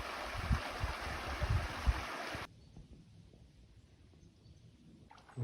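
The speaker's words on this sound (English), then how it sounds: "It does go over a pretty little creek." Steady rushing water from a small creek beneath a trail bridge in Vermont fills the first half, then cuts off abruptly to a quiet outdoor hush.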